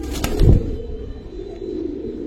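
Giribaz pigeons coo softly from nearby in a loft, low murmuring throughout with a brief louder burst of wing flutter or rustling early on.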